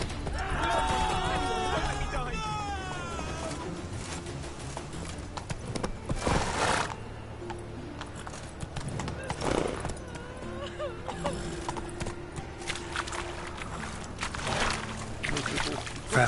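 Roach the horse galloping in The Witcher 3, a steady run of hoof clip-clops beneath game music, effects and a character's voice throughout.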